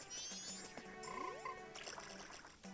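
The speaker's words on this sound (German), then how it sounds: "Das ist ein Frosch. Quack, quack." Cartoonish frog croaks with warbling, sliding tones sound amid synthetic game effects in The Legend of Zelda: Majora's Mask 3D, fairly quiet and close.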